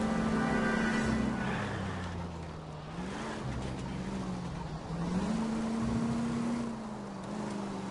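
A car engine in L.A. Noire drones steadily for the whole stretch, its pitch sliding down and back up as the car accelerates and eases off, loud and continuous with no voices.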